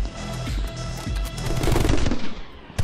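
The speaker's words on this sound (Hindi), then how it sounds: "यार ये लोग कुछ ज्यादा ही तेज गोलियां मार रहे हैं अब।" Dense, rapid gunfire from the video game My Friend Pedro, loud bursts of automatic shots and booms stacking over each other for nearly three seconds with no talk.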